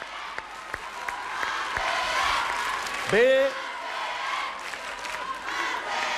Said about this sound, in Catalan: Aplaudim els companys, que s'ho mereixen